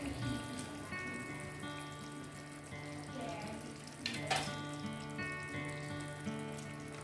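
Pieces of rohu fish frying in a pan for a Bengali fish kalia, a steady close sizzle and bubbling with a brief louder splash partway through.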